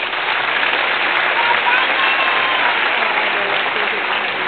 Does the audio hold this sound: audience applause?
yes